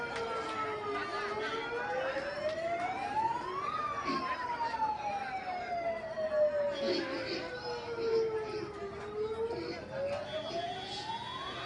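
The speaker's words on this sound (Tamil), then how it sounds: "ஆம்புலன்ஸ் வழிவிட்டுருங்க." A wailing ambulance siren sweeps slowly up and down in pitch, loud and steady over a busy background of voices and street noise at a political speech.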